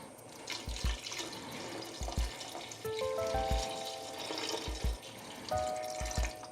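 Water poured into a pot of tomatoes for a digestive soup, a steady splashing stream under light kitchen knocks and clinks, close and fairly loud.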